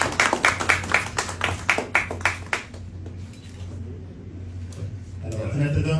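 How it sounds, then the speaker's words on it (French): Audience clapping at a ministry ceremony, a burst of fairly close, distinct claps in quick succession that thins out after a couple of seconds, followed by quieter room sound and a voice near the end. "Sur vos applaudissements, s'il vous plaît."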